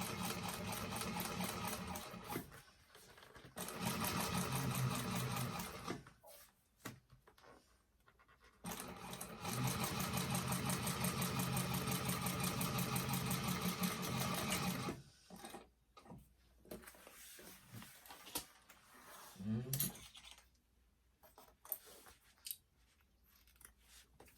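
A sewing machine back stitching a seam on a fabric bag, running in steady bursts with pauses between them, close and alone.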